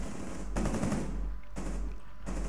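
Gunfire in the tactical shooter game Rainbow Six Siege, a loud burst of rapid automatic shots, a short pause, then another sustained burst, over a constant low hum.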